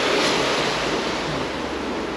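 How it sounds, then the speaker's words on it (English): Water gushing out of a leaky canal lock on a UK narrowboat route, a loud continuous broadband rush close by, heard alone and steady throughout. "As you can see, there's a whole bunch of water putting out,"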